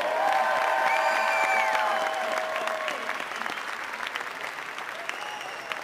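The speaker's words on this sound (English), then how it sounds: "Let's get another round of applause for Mr." A stadium crowd at a college football rivalry game claps and cheers loudly. The band's brass and a voice sound faintly underneath, and the applause slowly thins out.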